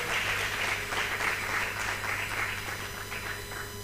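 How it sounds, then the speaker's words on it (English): An audience at a conference in Nigeria applauding an event sponsor, a sustained wash of clapping from a crowd at moderate distance, steady throughout with no speech over it. "So a round of applause for FCMB"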